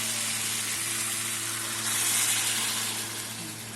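Hot water poured into a pan of softened mixed vegetables for a Bengali vegetarian curry sets off a loud, close hiss that swells briefly midway and then settles back to a steady simmering sizzle, with no talking.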